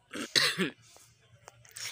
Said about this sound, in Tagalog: inuubo talaga ako